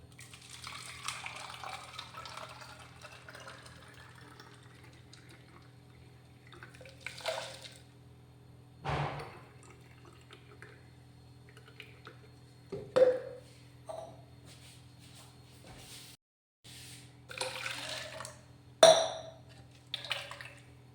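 Homemade fly-repellent mopping liquid is poured into a bottle, giving faint intermittent splashes and liquid trickles with quiet pauses between pours.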